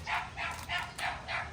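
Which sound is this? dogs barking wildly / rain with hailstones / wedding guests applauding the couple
dogs barking wildly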